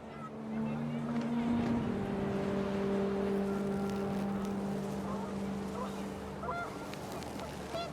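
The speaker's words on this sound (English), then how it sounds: "The wind picked up, and panicked geese appeared and quickly went." Panicked geese in What Remains of Edith Finch let out sustained honking calls over a steady windy rumble, fairly distant and blended with the background.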